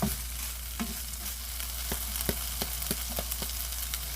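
Chopped capsicum and chicken for a pizza topping stirred in a pan, a low steady frying hiss broken by regular soft scrapes and taps of the spoon, fairly quiet and without voices.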